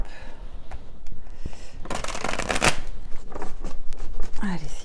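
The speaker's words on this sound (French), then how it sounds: "Je vais bien mélanger mon jeu." A deck of cards is shuffled up close, a dense riffling burst followed by softer card handling and further shuffling, fairly loud with a faint voice in the background.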